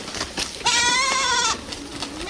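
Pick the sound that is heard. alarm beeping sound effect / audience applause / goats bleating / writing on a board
goats bleating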